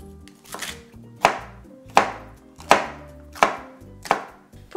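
A knife cutting a poblano pepper into strips thuds sharply against a cutting board in six evenly spaced chops, each a crisp near strike with a brief ringing decay.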